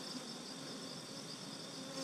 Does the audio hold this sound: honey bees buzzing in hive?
yes